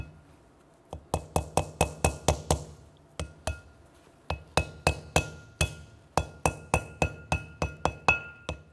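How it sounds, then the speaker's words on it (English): A brake seal is gently tapped into place on a 1993-1997 Ford Ranger front brake, giving rapid bursts of sharp, close metallic taps in quick rhythmic runs separated by short pauses. "I'm going to gently tap this into place."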